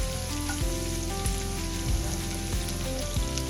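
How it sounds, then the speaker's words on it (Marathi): Vegetables fry in hot oil in a home kitchen pan for egg fried rice, a steady close sizzle and crackle with occasional soft thumps of stirring, no voices. "तर तेलावर आपण भाज्या घालूया."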